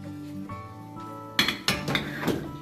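Clinking and clattering of a large dish and pan as a Gujarati handvo vegetable pancake is flipped, a few sharp metallic knocks after a quiet hum, close and moderately loud.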